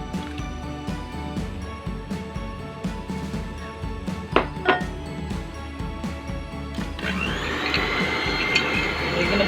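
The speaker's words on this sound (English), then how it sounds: "we will mix the eggs together until frothy" Eggs being beaten until frothy for a carrot cake batter, a steady mechanical whirring with clinks against the bowl, growing louder and higher toward the end as the mixer runs on alone.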